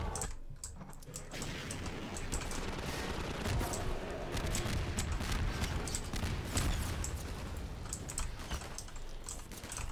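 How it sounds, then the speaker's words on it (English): Combine gunship in Half-Life 2 firing at incoming rockets, a sustained rapid crackle of shots mixed with sharp clicking, fairly loud and continuous over ten seconds with faint speech underneath. "this gunship just loves shooting my rockets down"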